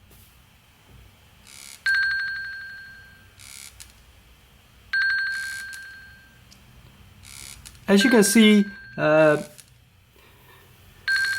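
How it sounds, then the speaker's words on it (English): An Apple Watch Series 3 (42mm) timer alarm sounds as two separate bursts of bright, repeating electronic chimes a few seconds apart, followed by a brief spoken voice. "Let me show you what happens when the timer elapses."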